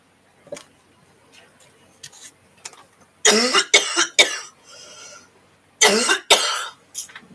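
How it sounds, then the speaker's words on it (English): Several harsh coughs come in two bursts, close and loud, with quieter breathing and small sounds between them. "It's a fucking cough."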